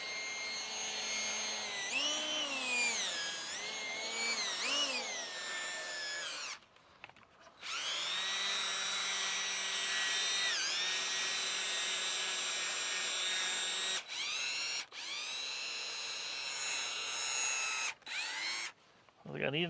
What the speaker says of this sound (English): Very light pressure, letting the sponge and the drill do the work.